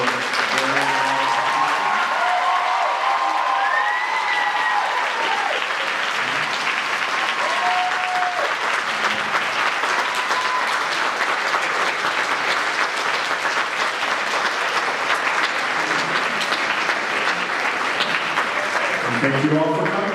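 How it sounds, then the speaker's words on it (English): Convention audience applauding the Rocky Horror Picture Show reunion panel at Pensacon 2016, a loud, dense, sustained round of clapping filling the room for about twenty seconds, with voices near the start and end. "let's give a big round of applause for their"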